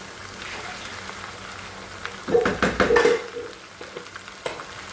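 Cabbage being stirred into a pan for vegetable pasta, with quiet sizzling that swells into a burst of louder scraping and clattering utensil knocks midway, then settles back to a low fry.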